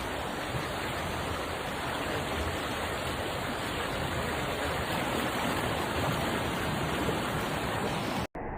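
Rushing floodwater in Hawaii roars as a dense, continuous broadband wash, loud and unbroken from start to finish before cutting off abruptly near the end.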